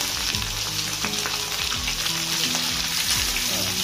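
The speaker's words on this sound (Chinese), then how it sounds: "我们转这个中小火，把这个鱼煎一下" Cured Guangxi fish pan-frying over medium-low heat, a steady close sizzle and crackle of oil running unbroken and fairly loud, with faint utensil scrapes and no talking.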